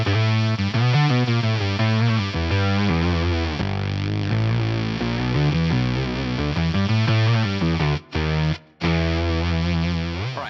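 Electric guitar run through a Fractal synth fuzz effect with the mix at about 60%, blending some clean signal into a thick, buzzy, chorus-like tone; loud sustained chords and notes broken by two brief cut-offs near the end.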